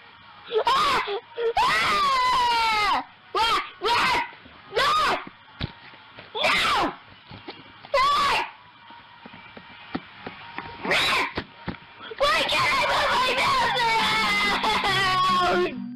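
A screaming blue kid animatronic from Spirit Halloween lets out a series of loud, wailing, moaning cries in repeated bursts with short silences between, building to a longer, denser outburst at the end.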